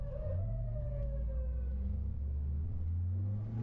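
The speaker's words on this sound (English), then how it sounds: "I don't even think that was the police. Wasn't that an ambulance?" A wailing emergency siren, taken for an ambulance, passing in traffic heard from inside a car, with a loud low engine and road rumble underneath and the siren sweeping steadily above.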